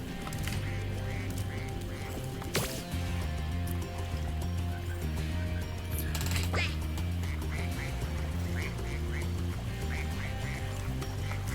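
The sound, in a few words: duck quacking in video game Spyro 2 Ripto's Rage Reignited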